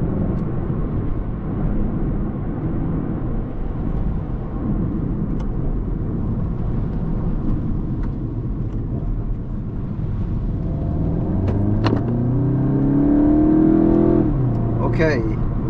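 A car with a BMW or VW dual-clutch transmission accelerates with a steady engine drone, then revs climb toward the end and drop abruptly as it upshifts, loud and close, with talking over it.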